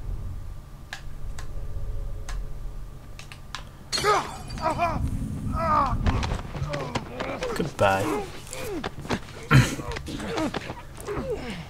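Glass shatters and breaks in The Last of Us video game, a sudden loud crash followed by scattered tinkling debris, with a voice talking over the later part.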